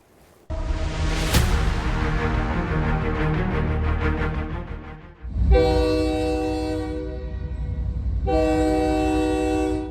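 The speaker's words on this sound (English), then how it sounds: "A train headed into Mexicali, Mexico from the United States" A train crossing from the United States into Mexicali, Mexico rumbles loudly nearby, and its horn sounds in two long, blaring blasts over the steady roar of the rail cars.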